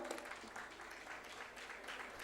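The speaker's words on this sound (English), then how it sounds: "All right, a big round of applause." An audience at the Kalinga Literary Festival claps steadily, a dense, even wash of applause from a crowd that continues unbroken and fairly soft throughout.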